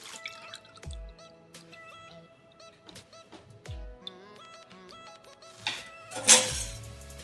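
Juice pours into a tumbler: soft, scattered drips and small trickles with a few light clinks, then a brief louder splash near the end, quiet and close, with no talking.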